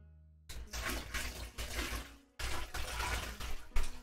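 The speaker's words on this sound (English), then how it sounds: "here comes Haley, putting more water" Water pours and splashes into a dye pot for a jacket in repeated bursts, with a brief pause midway before the splashing picks up again, close and fairly loud.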